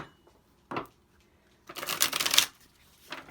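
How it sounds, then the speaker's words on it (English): Two bursts of tarot card shuffling, a short riffle followed by a longer, louder flutter of cards, with a faint third shuffle starting at the end. "Let's give them some good shuffles."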